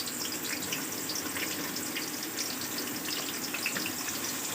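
Chopped onions dropped into hot oil in a karahi, sizzling and frying with a steady, dense hiss that holds even throughout, with no voices.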